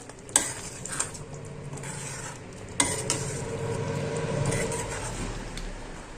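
Cashews and paneer stirred into curry in a pan, with scraping spoon strokes and clinks over a steady sizzle.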